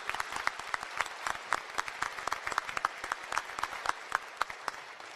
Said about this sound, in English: I think we need to give a huge round of applause for Dr. Watts and all the commitment to this university